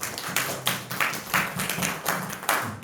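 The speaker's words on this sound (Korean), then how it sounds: "우리 하나님께 영광의 박수 올려드리겠습니다" A church middle and high school youth group claps together in a worship service, several loud, fairly regular bursts of hand claps close by, with no talking over them.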